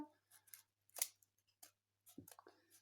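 Scissors cut around paper hearts in a handful of short, crisp snips spaced irregularly, close and quiet with no talking.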